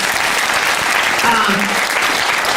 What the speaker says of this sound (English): Can we give all of our panelists a round of applause